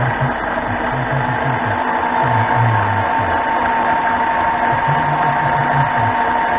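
A hand crank machine spinning up, a steady loud whirring hum with a rhythmic low mechanical pulsing as it gains speed, no talking.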